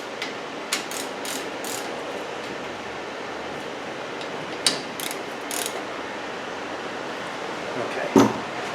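A ratchet tightens the brake caliper bolts on a Chevy Silverado with a close run of rapid clicking pawl strokes, followed by a few metallic clunks of the tool against the parts.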